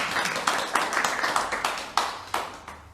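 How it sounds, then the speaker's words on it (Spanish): Scattered hand claps from a small audience offering a welcoming round at a commemorative gathering for Sangharakshita, a handful of sharp claps spaced irregularly and fading, moderately near with no talk. "Quisiera que le diéramos un aplauso de bienvenida."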